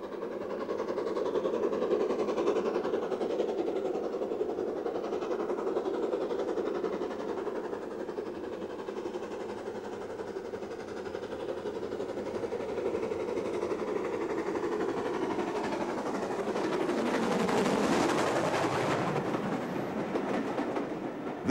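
BR Standard Class 4 steam locomotive 76031 running on the East Lancashire Railway, a steady rumbling roll of train and wagons that holds throughout and swells louder near the end as it passes close by.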